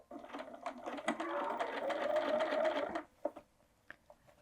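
A sewing machine stitches a seam on a fabric bag, a steady close whirring run of about three seconds, then a few short bursts and clicks as it stops.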